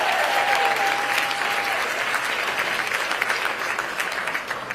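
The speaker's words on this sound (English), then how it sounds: "Let's give them all a big round of applause." Audience at a live speech event in San Francisco applauds loudly, a dense, sustained roar of many hands clapping close and full, with some cheering mixed in and no speech over it.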